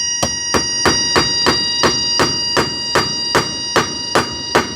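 Hammer drives nails during bathroom construction at a work site, about thirteen sharp, loud, close strikes in an even, steady rhythm with no talk.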